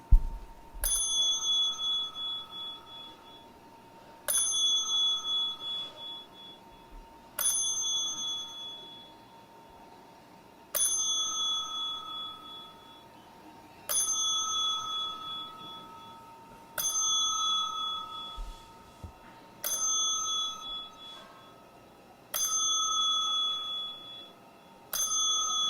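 A small, bright bicycle-style bell rings ten times as a boxing ten-count tribute. Each ring is sharp and clear, with evenly spaced pauses of about three seconds between them, and no one speaks.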